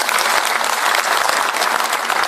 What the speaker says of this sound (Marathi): त्यांच्यासाठी एकदा जोरदार टाळ्या वाजवा.